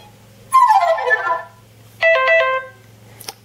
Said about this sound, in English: We've got some alarm tones as well.